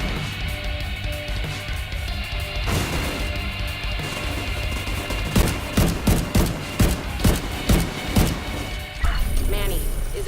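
Gunfire from a favored weapon in the shooter game Division 2, a run of sharp regular shots loud in the foreground over steady game music and ambience, with a voice speaking briefly.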